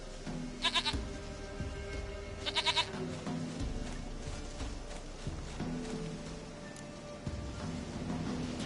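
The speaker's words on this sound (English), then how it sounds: "Goat of mine, dearest, sweetest goat." Goat in The Witcher video game bleating in short quavering bursts, two clear calls close together over quiet game ambience and soft footsteps.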